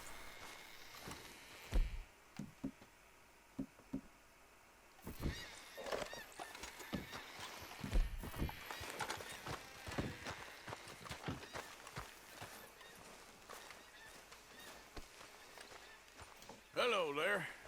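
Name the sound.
horses in Red Dead Redemption 2 video game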